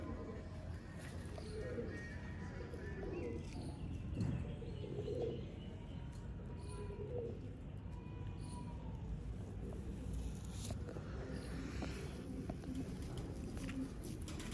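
Rare Ferozpuri pigeons coo softly in short repeated calls amid a busy, noisy outdoor setting with a low steady background rumble and occasional distant voices.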